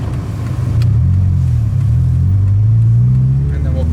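A Subaru car driving along a dark road at night, a loud steady low engine and road rumble from inside the cabin, rising slightly in pitch as it gets under way.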